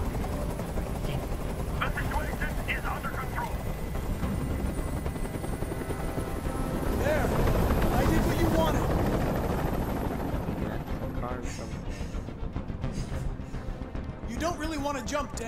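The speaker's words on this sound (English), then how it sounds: "Tell that helicopter to get out of here." A helicopter's rotor drone fills a Detroit video game scene with bursts of gunfire, voices talking over it, the roar swelling and easing.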